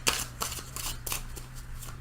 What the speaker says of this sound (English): I'm going to shuffle these for just a second.